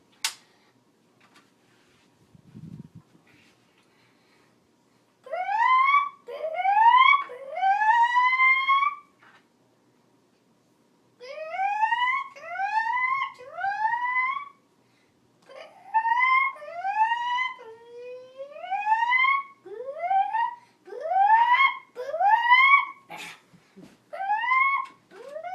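A fire alarm sounds during a test, repeating rising electronic whoop tones in short bursts of three or four, separated by brief pauses. The tones are loud and clear with no talking.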